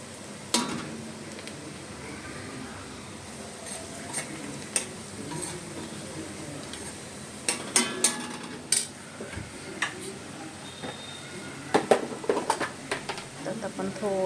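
Chopped onions fry in a pan for green chicken as they turn reddish brown, a steady low sizzle with scattered spoon clinks and scraping stirs against the pan, growing busier toward the end.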